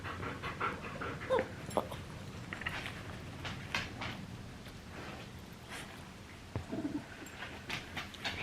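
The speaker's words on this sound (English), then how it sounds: "You hear him? That means he's wanting to bark, but he's making himself not bark." A small Maltese-poodle cross dog pants softly and stifles a bark with faint whines and huffs, close by, with a few bird coos in the background.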